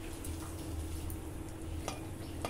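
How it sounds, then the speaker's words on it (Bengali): Whole garam masala, cloves and cinnamon frying in hot oil, a soft steady sizzle with a couple of faint utensil clicks, quiet and close without talk. "ফোড়নটা একটু ভাজা ভাজা করে নেব"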